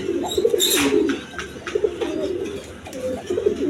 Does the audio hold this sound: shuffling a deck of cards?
no